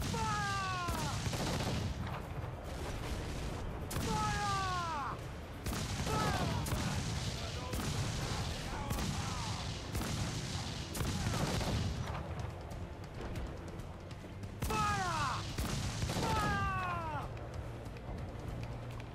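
Ship cannons in Assassin's Creed Black Flag fire in repeated broadside volleys, each a cluster of heavy booms with whistling flight, spaced a few seconds apart over continuous rumbling battle noise.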